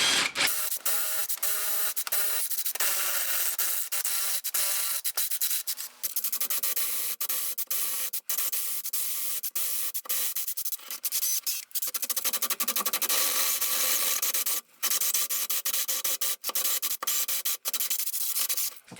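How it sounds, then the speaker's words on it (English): A 16mm drill bit bores through brick to widen holes for an outside tap, a steady loud grinding rasp that runs almost without pause, broken only by a few brief stops. "I'm now going to enlarge the holes, first using the 16mm drill bit"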